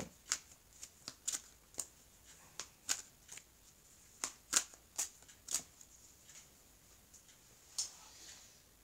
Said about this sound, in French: on va donc mélanger les cartes